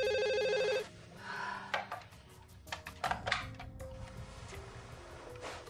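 Household telephone at night, a rapid electronic bell ring lasting under a second, loud and close, followed by quieter indoor clatter and handling noises.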